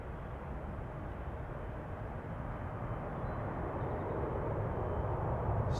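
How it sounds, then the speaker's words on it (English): A Boeing 777 takes off from runway 36L at Amsterdam Schiphol, bound for San Francisco; a steady distant jet roar rumbles low and slowly grows louder as the aircraft rolls down the runway. "Now, Triple seems to be needing a lot of runway length to get airborne."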